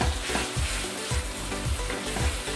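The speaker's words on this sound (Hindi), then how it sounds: "उसके अंदर थोड़ा सा ऑयल शामिल करेंगे और प्याज़ों को फ्राई करेंगे।" Sliced onions fry in a little oil for chicken masala, a dense, loud sizzling hiss that swells and eases in a regular rhythm as they are turned, close by with nobody speaking.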